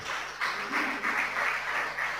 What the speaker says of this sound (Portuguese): Pode aplaudir porque é verdade.